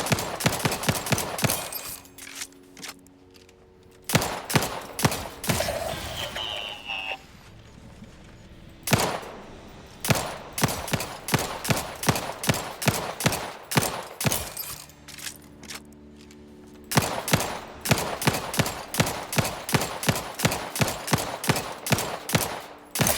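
Gunfire in The Outer Worlds 2 video game: sharp, loud shots in irregular volleys, some rapid and clustered, with brief quieter gaps and in-game ambience between bursts.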